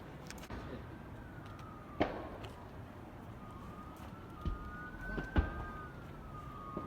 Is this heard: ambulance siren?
yes